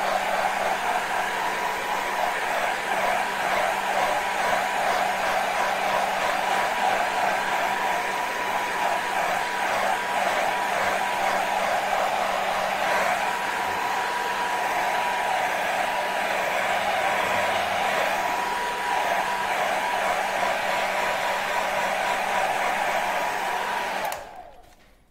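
A hair dryer blows steadily and loudly on a small watercolor painting of a figure, a continuous airy whoosh for about 24 seconds before cutting off abruptly at the end.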